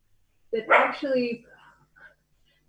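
A dog lets out a couple of quick, excited, harmonic barks close by, followed by a softer whine, in an otherwise quiet room.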